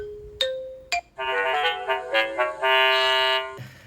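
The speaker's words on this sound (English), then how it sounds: "so I choose there's a ding dong sound" An indoor chime receiver of a Xiaomi Smart Video Doorbell 3 plays a short ding-dong tone, then a longer melodic chime sequence, loud and close with no talking.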